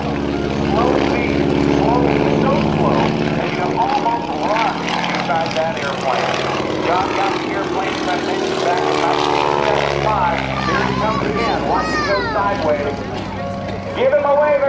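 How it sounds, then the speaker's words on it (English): A propeller aerobatic plane makes a low knife-edge pass at a naval air station airshow, its engine droning and shifting in pitch as it passes close by, with an announcer talking over it throughout. "Harry pass as he flies the fuselage lower and lower, dragging that tail just about 3 feet above the ground"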